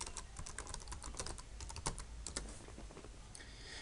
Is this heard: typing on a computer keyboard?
yes